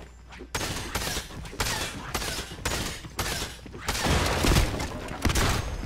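Heavy shotgun blasts in a video game, a run of loud dense bursts with brief gaps, growing fuller toward the end.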